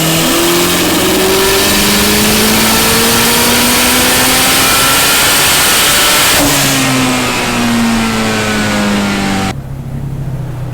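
A Toyota 4AGE engine on a dyno revs hard at full throttle, loud and close, its pitch sweeping steadily up through the gears before it drops off near the end.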